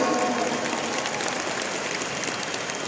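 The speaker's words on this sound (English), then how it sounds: "Can we all give our topmost leaders a round of applause today?" A crowd at a Freeway International gathering gives a round of applause, a smooth, continuous wash of many hands clapping at once, steady and fairly distant, without clear voices.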